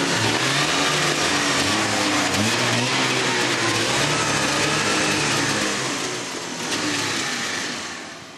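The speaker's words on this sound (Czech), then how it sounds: "tohle to byl řev trabantích motorů" Trabant two-stroke car engines revving together in a loud, dense roar with a buzzy throbbing character, sustained close up and easing off slightly toward the end.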